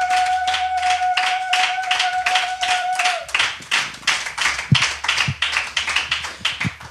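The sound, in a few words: congregation applauding for the Holy Spirit in church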